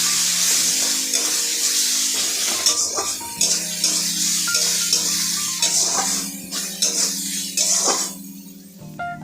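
Red chilli powder, cumin powder and salt are stir-fried in a pan for a Bengali prawn and taro stolon curry. A loud, steady sizzle runs throughout, broken by repeated scraping clinks of a spatula against the pan, with no voices.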